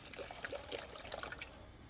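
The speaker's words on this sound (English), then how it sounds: "Put some water." Water pours into a beach bucket in a quiet, close trickle with small splashes, steady for about two seconds with no talking.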